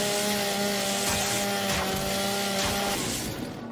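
A chainsaw cuts through material in Gears 5, a loud steady buzzing whine with a sustained engine drone that fades near the end.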